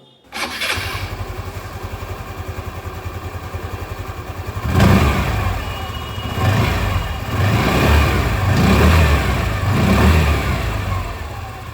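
A Hero Destini 125 Xtec scooter's exhaust starts up and idles close by, then the engine is blipped through several rising revs and settles back between them, loud and alone.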